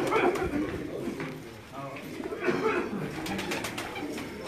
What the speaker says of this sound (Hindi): उनके ये गोल्डन कबूतर जो थे, ये मैं आपको दिखा रहा हूँ